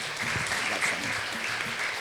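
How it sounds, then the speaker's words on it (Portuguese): Steady applause from an audience at a panel on samba and the fight against religious intolerance greets a speaker, dense and continuous throughout, with a faint voice audible underneath. "Aplausos."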